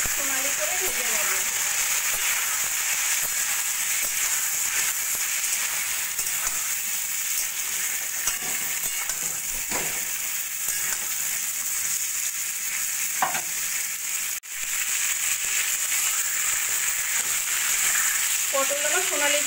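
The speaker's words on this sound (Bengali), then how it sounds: "নুন আর হলুদ দিয়ে আমি পটলগুলোকে সোনালি করে ভেজে নেব।" Pointed gourd (potol) pieces frying in oil with salt and turmeric, a dense continuous sizzle close up with occasional stirring scrapes, and a voice speaking briefly over it.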